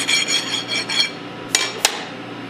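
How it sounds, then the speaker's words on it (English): Metal file rasping across a metal shaft to clear burrs after the coupler is removed, a run of about six steady strokes followed by two sharp clinks, close and alone with no talking. "After removing the coupler, you'll want to file off any burrs that may be left over on the shaft."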